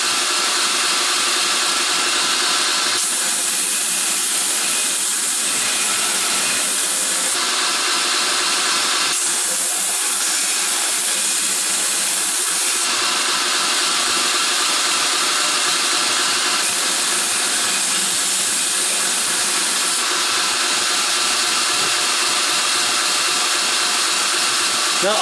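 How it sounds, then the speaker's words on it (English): A belt grinder grinds thin steel while shaping a chef-style knife blade: a loud, continuous abrasive hiss with a steady motor whine that swells and eases in long passes as the blade is pressed against the belt. "Now, I've been pushing into the belt pretty hard this whole time."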